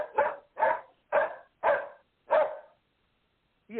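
A dog barks five times in a steady, evenly spaced series, close and loud, with the start of a sixth bark cut off at the end; no voices.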